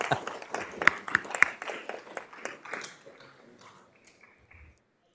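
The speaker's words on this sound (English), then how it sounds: "Give them one more round of applause." A room of people at a city council meeting gives a short round of applause, the clapping fairly close and brisk before thinning out and fading to silence.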